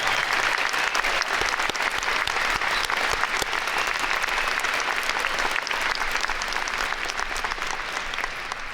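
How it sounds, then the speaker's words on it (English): A large audience at a 2002 Stevenson High School graduation claps for the school's Academic All-Stars in a dense, steady round of applause that holds without a break throughout. "may we have a nice round of applause for our Stevenson High School Academic All-Stars"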